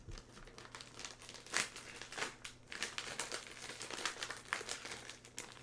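A beef jerky package crinkles and crumples as it is ripped open, loud close-up rustling with sharp crackles and bursts of plastic tearing throughout.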